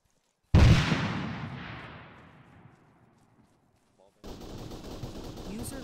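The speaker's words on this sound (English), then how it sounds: "I'm hearing AK fire way south, that's concerning." A single heavy report from an AK rifle in Arma 3 booms out, then rolls into a long fading echo. Steadier ambient noise follows after a pause.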